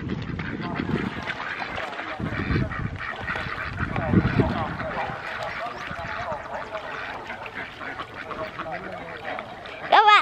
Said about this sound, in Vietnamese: vịt nó chạy hết các bạn ơi